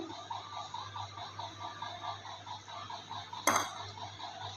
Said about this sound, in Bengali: আমি অল্প অল্প করে জল দিয়ে আমি ভালো করে বেসনটা ফেটিয়ে নেব